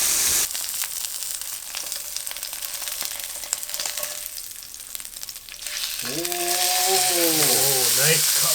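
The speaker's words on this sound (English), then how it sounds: "let's Nice. pop our steak in. Oh. Sirloin steak. Oh, yes, that is a good sound." Loud, close, steady sizzling of sirloin steak searing in a hot pan, crackling throughout, with a voice speaking over the final seconds.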